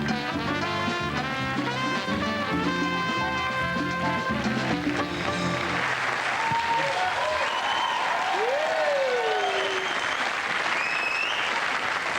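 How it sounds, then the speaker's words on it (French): Loud, sustained applause from a French television studio audience, starting under music and continuing as a dense wash of clapping for over ten seconds. "Je vous demande un tonnerre d'applaudissements pour mes potes Eric et Ramzi."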